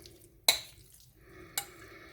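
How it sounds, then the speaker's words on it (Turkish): A spoon stirs a teaspoon of salt into a mixture for alinazik, an eggplant dish, with two sharp clinks against the bowl between soft scraping. "bir çay kaşığı kadar tuz atıyoruz. Güzelce karıştırıyoruz."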